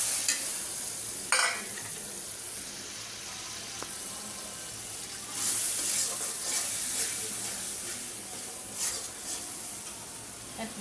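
Spice paste of chili with a little water sizzles and fries in a pan for curried small fish, giving a steady crackle punctuated by occasional scrapes and stirs.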